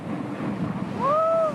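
Indian Ocean waves off the Comoros Islands recorded on a camcorder: a steady rushing wash of surf with wind buffeting the microphone, and a faint rising tonal sweep near the end.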